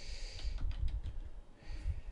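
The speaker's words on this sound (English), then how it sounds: "So let's go ahead and type in the house number again." Faint computer keyboard keys tap out a house number in a short, quiet cluster of soft clicks near the middle, over low background rumble.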